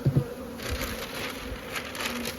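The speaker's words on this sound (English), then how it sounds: "bees" A close, continuous drone of honeybees swarms around a commercial hive being prepared for a Texas cold snap, starting with a couple of soft knocks before the steady buzz carries on.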